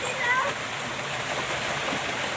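A waterfall near a home in Pathikkundu, running full after rain, gives a steady broadband rush of falling water that holds even and unbroken for the whole moment, with a faint voice briefly over it at the start.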